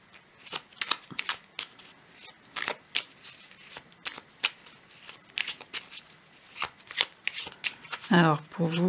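A deck of Gaïa oracle cards is shuffled by hand in quick, crisp riffling bursts, close and fairly quiet, repeating throughout with brief pauses and a voice speaking alongside.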